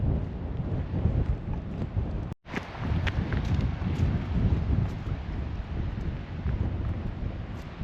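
Strong wind gusts roaring and buffeting outdoors on an exposed headland by a Napoleonic fort on Brean Down, loud and continuous with rumbling microphone buffeting, a brief drop near the middle, then steady gusting again.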